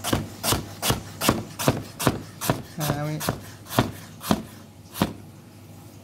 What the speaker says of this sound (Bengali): এবার আমরা আলুটাকে অনেক পাতলা পাতলা করে কাটবো